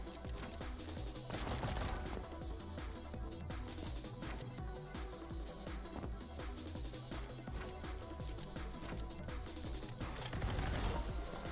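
Rapid gunfire in the first-person speedrun game Neon White, dense bursts of sharp shots and mechanical clacks with heavier impacts near the start and end, loud, close and continuous without talk.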